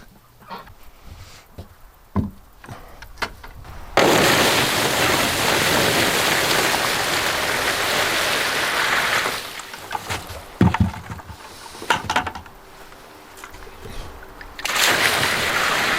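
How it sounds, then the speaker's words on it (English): Warm water gushes into a kiddie pool for ducks in winter, a loud steady rushing hiss that starts abruptly, pauses as a few duck calls and knocks come through, then resumes. "fill the kiddie pool up with warm water"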